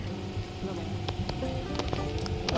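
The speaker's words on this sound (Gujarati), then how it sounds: "વરસાદ ચાલુ છે." Rain falls steadily over farm fields during drone pesticide spraying, a continuous close hiss broken by scattered sharper drops, with faint background voices.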